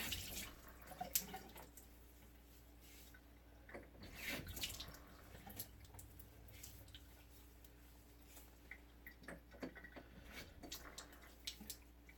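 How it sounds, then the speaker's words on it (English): Hot water splashing and trickling over a head before a shave, with intermittent pours, drips and wet squishing at close range, fairly quiet throughout. "I'm just going to put a little more hot water in the head here, just to help soften up the hairs"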